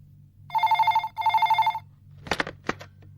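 A telephone bell rings twice in quick trilling bursts in a quiet room, followed by brief handling sounds.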